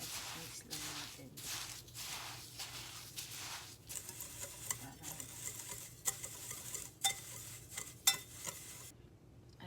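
Homemade breadcrumbs are mixed in a bowl, making soft, quick rhythmic scraping and patter strokes that grow sparser and clickier after a few seconds, with quiet speech in the background.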